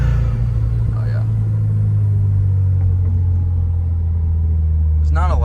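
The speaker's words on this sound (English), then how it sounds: "There's not a lot that beats a Boxster engine sound in the 4-cylinder world, at least." A Subaru WRX boxer four-cylinder engine runs close by with a deep, steady rumble, holding a low idle-like drone. A brief voice cuts in near the end.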